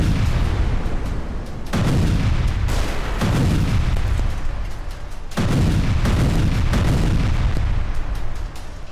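Heavy artillery booms strike repeatedly in a North Korean firing display, each a deep, loud blast followed by a rolling rumble, with a few sharp cracks in between.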